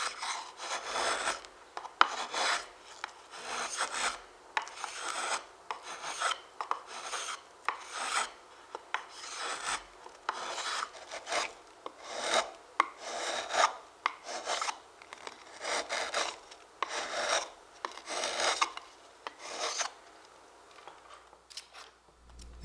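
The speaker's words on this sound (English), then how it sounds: "Now I'm just rounding the corners with a chisel and using a Dremel to get inside the curves." A hand chisel and a Dremel round the corners of a wooden pizza peel, giving a steady run of close, rhythmic rasping and scraping strokes that repeat evenly, with no talk.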